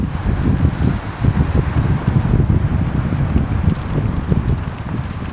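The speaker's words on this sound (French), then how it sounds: "Il y a du vent, hein?" Strong mistral wind gusts buffet the microphone in loud, rumbling surges, with a steady rush of air throughout and no speech.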